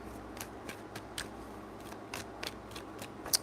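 Tarot cards shuffled by hand in three rounds, giving a run of short papery riffles and flicks spaced roughly evenly, close and fairly quiet, with one sharper snap near the end and no talking.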